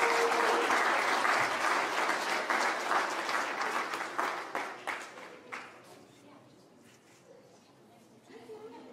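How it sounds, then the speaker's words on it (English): A hall of fame crowd applauds the 1981 girls track and field team, a dense burst of clapping that gradually thins and fades, with a few scattered claps and chatter lingering near the end. "one more round of applause for the 1981 girls track and field team"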